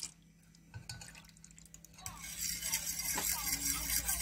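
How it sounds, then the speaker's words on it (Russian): Milk poured into whisked zebra cake batter in a bowl, a faint trickle at first, then a louder, steady liquid pour with light clinks of the bowl, under brief talk. "Добавляем молоко."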